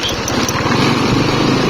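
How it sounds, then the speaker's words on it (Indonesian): A motorcycle engine running rough after an oil change with 10W40 oil, a close, steady uneven putter with pulsing low beats and no talk. "ternyata suaranya juga masih kasar ya. RPM mesin juga termasuk cepat turun."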